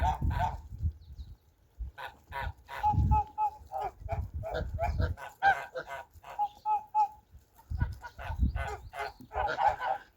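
Several geese and a gander honk in bursts, close by near a feeding trough, with repeated nasal calls overlapping and a few pauses between.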